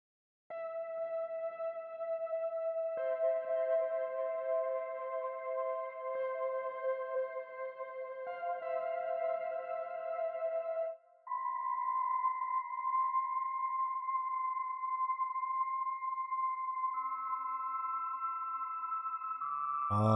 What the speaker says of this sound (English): Oh man, I just love the sound of these retro synths.